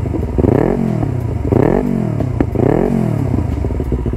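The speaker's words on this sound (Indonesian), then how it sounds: "Yamaha R25 ini kan aisnya itu kan kalau tidak ditutup itu akan meledak-ledak ketika kita deselerasi" A Yamaha R25 motorcycle from 2019 revs up and drops back three times in a row. Its loud, close exhaust gives sharp crackling pops as the engine falls off each rev.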